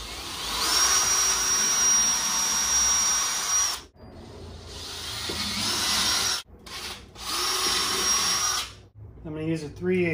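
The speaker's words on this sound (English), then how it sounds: "I'm going to use a smaller drill bit just to drill some pilot holes." Small bit in a power drill boring pilot holes to mount a Wicker Bill rear spoiler on a C6 Corvette widebody. Three bursts of close, high-pitched whining and grinding, separated by brief pauses, with a short spoken voice at the end.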